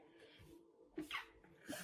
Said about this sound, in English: Random ass sneeze in a reading.